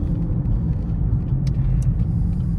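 A manual Chevrolet Camaro SS 1LE engine rumbles steadily and loudly at close range while downshifting, a deep, even drone with no talking.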